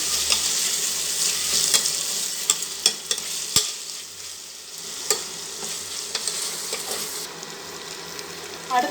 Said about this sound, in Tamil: தக்காளியை போட்டு நல்லா வதக்குங்க